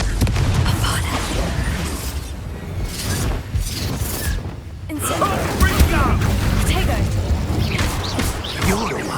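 Confringo spell explosions in the Hogwarts Legacy video game burst through a dense, noisy battle mix. Heavy booms and crashes land amid constant clatter, and voices are heard throughout.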